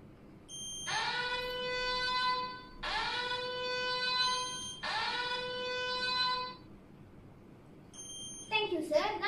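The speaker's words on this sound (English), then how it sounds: "If it's overflow, the sensor will trigger and the alarm will be on." An electronic water overflow alarm, triggered by a sensor, sounds in three long, loud, tonal bursts with short gaps, then a brief chirp as a voice starts talking.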